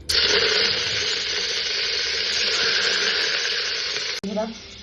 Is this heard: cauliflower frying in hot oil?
yes